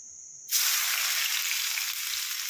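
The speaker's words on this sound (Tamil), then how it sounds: "இந்த நெல்லிக்காய் வந்து இந்த ஆயிலில் நல்லா வேகணும், நல்லா கிறிஸ்பியாக வர வரைக்கும் இதை வந்து நல்லா மிக்ஸ் பண்ணி விட்டுட்டே இருக்கலாம்." Crushed gooseberries hit hot mustard oil after a brief quiet hum, bursting into a sudden loud sizzle that keeps crackling steadily and close up, with no talking.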